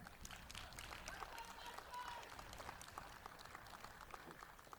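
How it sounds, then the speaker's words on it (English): A rally audience claps for a departing speaker at an outdoor protest event: a faint, steady patter of applause spread across the whole stretch, with no clear voices standing out. "Let's give Dustin a round of applause, everybody."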